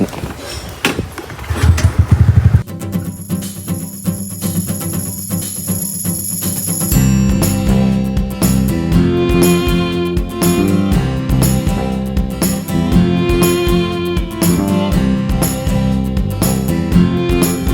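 A motorcycle engine starts after a brief clatter, then runs with a steady, fairly loud and close engine drone that holds for the rest of the stretch.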